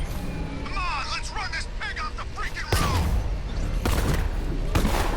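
Gunfire in the video game Batman: Arkham Knight: a sudden burst of loud shots and booming impacts breaks in halfway through, repeating in clusters, with people talking over the game sound.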